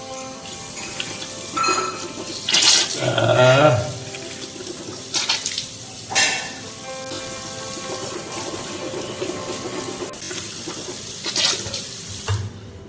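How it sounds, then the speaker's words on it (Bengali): Hands being washed under a running kitchen tap, water splashing into a sink in a steady stream with a few louder gushes and splashes as the hands move through the flow. "হাতটা ধুয়ে নিই"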